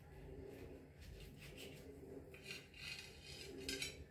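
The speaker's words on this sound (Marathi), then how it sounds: "हा असा सुरी घेऊन खाली असे घ्यायचंय आणि तो कापून घ्यायचा आहे" A knife slices through a freshly pressed sandwich, giving soft scraping and faint clinking of the blade against a plate, fairly close and steady throughout.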